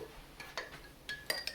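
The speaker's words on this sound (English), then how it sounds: "take your spoon and stir it up" A spoon stirring a solution in a cup, soft scattered clinks and taps of metal against the container, four or five light strikes spread over a quiet background.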